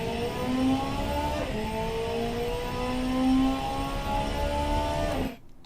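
A 2002 Marina Flicker R engine revs hard in the Automation racing game at Laguna Seca, a loud continuous whine climbing through repeated gear shifts before cutting off abruptly near the end.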